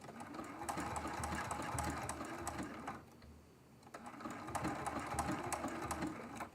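Sewing machine stitching a quilt block, a fast, steady mechanical whir with rapid needle clatter, pausing briefly before running again, close and moderately quiet.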